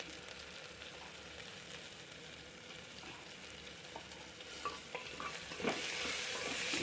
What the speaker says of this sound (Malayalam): ഇട്ട് നന്നായിട്ടൊന്ന് ഇളക്കാം